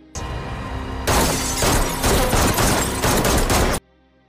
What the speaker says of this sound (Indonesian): Lincoln terkena tembakan.